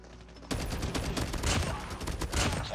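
Rapid automatic fire from a DR-H submachine gun in the video game Call of Duty Mobile, starting abruptly after a quiet moment and continuing as fast, dense bursts of close shots.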